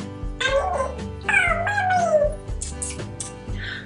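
A cat meows twice in drawn-out, wavering calls over steady background music, fairly close and clear.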